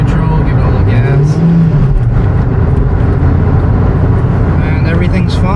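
A 1997 Toyota Corolla engine, fresh from a transmission fluid change, revs hard in neutral, a loud close roar that climbs and falls once, with a voice talking over it.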